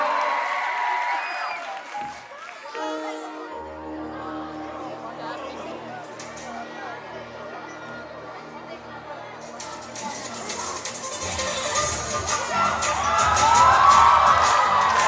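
An audience at a Vishu concert in Japan applauds and cheers, swelling toward the end with whoops and crowd noise over lingering music and chatter.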